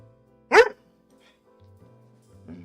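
A pet dog (a pup kept in a crate) lets out a single loud, sharp bark close by, followed by near silence with faint low background sounds.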